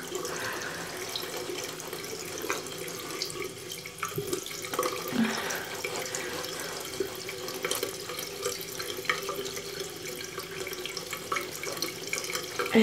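Tap water running steadily into a sink to wet a brush, a close continuous splashing flow with small clinks and handling noises over it.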